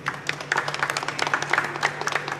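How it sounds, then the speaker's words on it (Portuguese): Applause at a bar gig in Lapa, a room full of scattered hand claps over a steady low hum, fairly close and lively throughout. "Queria pedir uma salva de palmas para o Tuyuca aqui."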